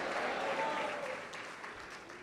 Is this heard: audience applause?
yes